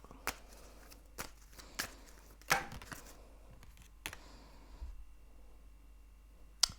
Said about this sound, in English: So I'm going to shuffle some of these Gypsy Oracle cards.